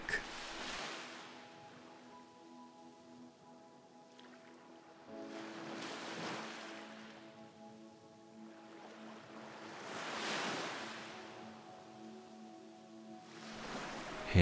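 Ocean waves surge and recede in slow, steady swells about every four seconds, a soft, even wash blended with a gentle sustained tone, made for falling asleep.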